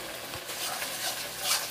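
Turmeric powder being stirred into frying fish curry with tomatoes, a steady sizzle with soft scraping strokes of a spoon in the pan, close and alone.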